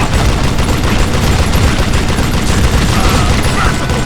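Rapid, sustained gunfire rattles loudly and without pause in a Wild West shooter game, a dense fusillade of close shots with no speech.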